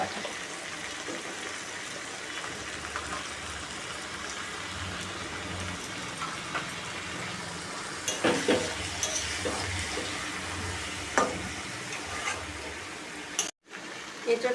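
Ginger-garlic paste and tomato sautéing in a pan for a jackfruit and prawn biryani, a steady close frying hiss with a few louder sputters and stirring scrapes partway through and a brief cutout near the end.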